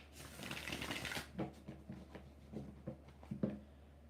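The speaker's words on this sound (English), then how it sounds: "2 more shuffles." Tarot cards shuffled during a live reading: a dense riffling burst in the first second, then scattered soft card slaps and flicks, close and fairly quiet, with no talk.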